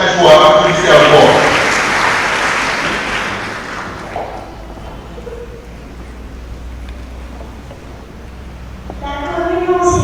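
A church congregation applauds at a communion and confirmation mass, a loud burst of clapping that fades over several seconds, with a voice and other sounds returning near the end.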